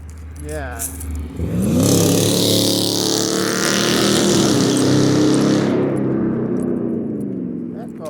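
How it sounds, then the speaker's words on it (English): A loud vehicle roars close by with a rising rush of engine and tire noise, then fades away, with faint talking in the background. "That car was fast"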